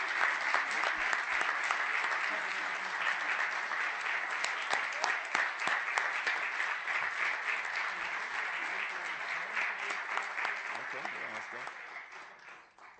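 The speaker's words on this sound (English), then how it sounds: "give a big round of applause" Audience applause for SBI students at a Clark County, Nevada event, sustained loud clapping from a large crowd lasting many seconds with a few sharper claps and cheers, fading slightly at the end.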